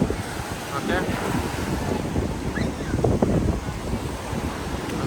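Strong wind buffets the microphone at Chavakkad beach, with surf washing steadily underneath throughout; faint voices are mixed into the roar.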